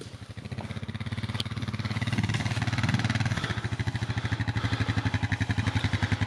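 A 2021 Honda Foreman 520 ATV in ultra-low first gear strains against a heavy fallen tree across a trail, its engine chugging with a steady loud pulsing beat that rises briefly under load, then settles back to a rhythmic idle-like thump.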